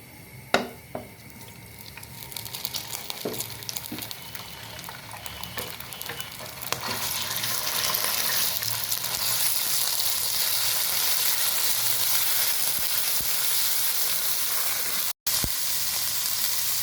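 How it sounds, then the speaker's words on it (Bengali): Chicken mince drops into hot oil in a frying pan: a few sharp clatters first, then a sizzle that swells and holds loud and steady, briefly cut off near the end. "তেল গরম হয়ে গিয়েছে এখন দিয়ে দেবো মুরগির মাংসের কিমা"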